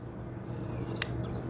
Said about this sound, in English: I'm going to make a snip, and I'm going to cut